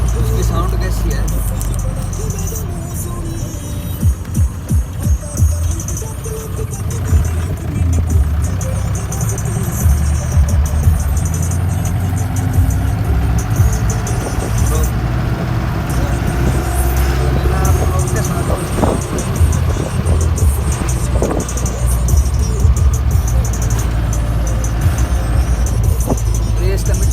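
Mahindra Jeep engine running with a turbocharger, loud and steady throughout with a low rumble and faint high whine on top, no talking.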